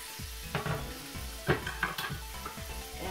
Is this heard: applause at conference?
no